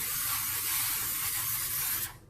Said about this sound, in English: I'm going to be using the extra virgin olive oil. We're going to spray the pan with that.